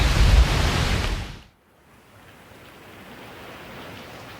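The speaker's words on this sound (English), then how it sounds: "So once again, it's raining." Rain falls in a Costa Rica cloud forest at the Cloud Bridge Reserve as a steady, dense hiss, loud and close at first, then cutting off abruptly and continuing as a softer, even wash.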